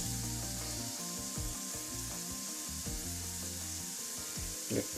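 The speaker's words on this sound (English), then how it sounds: "now mix it just to roast the spices so the raw flavor will vanish" Spices and carrots roast in a pan over the heat, giving a soft steady sizzle under a louder continuous tonal hum, with a brief clatter near the end and no talking.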